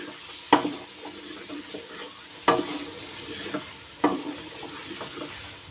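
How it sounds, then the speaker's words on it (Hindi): Aloo matar curry masala with about four tablespoons of yogurt being sautéed in a pan, a steady sizzle broken by three sharp stirring scrapes spaced a couple of seconds apart, close and moderately loud. "इसको फिर अच्छे से 2-3 मिनट के लिए भूनेंगे"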